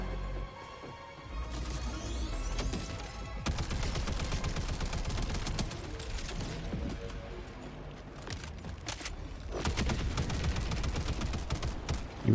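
Gunfire in a video game crackles in dense, continuous bursts like a fusillade, loud and sustained across the stretch with brief lulls between volleys.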